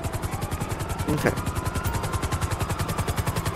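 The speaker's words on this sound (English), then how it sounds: "I'm being chased by a police helicopter." A police helicopter in a video game pursues the player, its rotor a steady rapid chop thudding evenly throughout, with a short burst of crackling noise midway and one quick spoken word.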